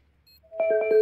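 A phone or Steam call rings during a competitive Counter-Strike match on Nuke: a short series of about four bright, evenly spaced electronic ringing pulses rising out of near silence, fairly close and clear.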